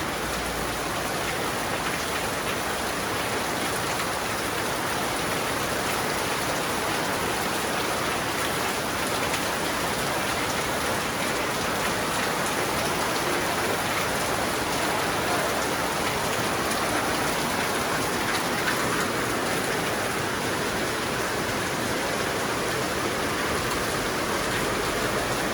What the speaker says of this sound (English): It's a deluge.